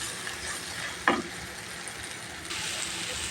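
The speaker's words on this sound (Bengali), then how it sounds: "এই যে আমার মশলাটা কষানো হয়ে গেছে খুব সুন্দর কষানো হয়ে গেছে" Onion, garlic, tomato and chili-turmeric masala sautéing in a pan for a fish curry, a steady sizzle with one sharp clank of utensil against the pan midway.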